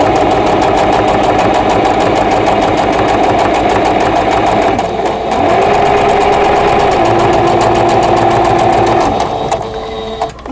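A sewing machine stitches a quilt block with fine 50 weight thread, a loud close steady mechanical whir with a rapid regular rhythm, briefly pausing and shifting pitch midway before slowing at the end.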